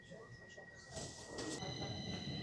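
A Stockholm metro train rumbles steadily during a ride, with a sustained electric whine, a few mechanical clatters and a louder surge midway, while faint voices murmur in the carriage.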